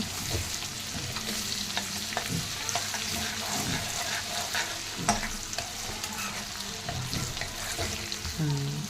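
Garlic and onions frying in a pan, stirred steadily with a spatula: a continuous close sizzle broken by repeated scraping strokes, with no talking.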